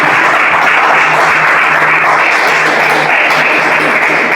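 Loud, dense applause from a church congregation, sustained and even throughout with a faint hum underneath and no speech.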